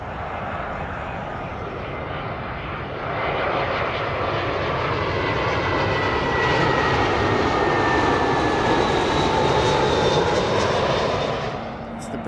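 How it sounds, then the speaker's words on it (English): A British Airways Airbus A319 jet arriving at London Heathrow from Brussels, its engine roar swelling as it passes close overhead, then easing slightly, with a whining tone above the steady rumble and a voice speaking over it. "British Airways A319 coming in from Brussels."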